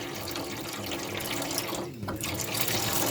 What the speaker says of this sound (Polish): Pokażę jeszcze może zademonstruję wodę. Mamy ciepła.